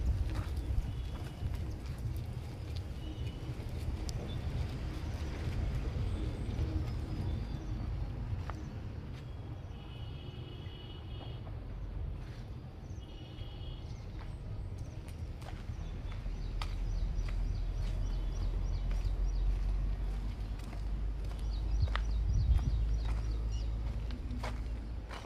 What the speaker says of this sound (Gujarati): મસ્ત છે વ્હાઈટ ઘોડા